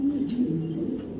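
A young racing pigeon with a 2024 club race ring coos close by, one low, continuous throaty coo with gentle pitch wobbles.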